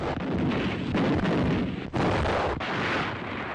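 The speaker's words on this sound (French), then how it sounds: "L'orage éclate, le canon tonne." Heavy booming blasts roll out in a dense, rumbling barrage, with a couple of brief dips between thunderous bursts.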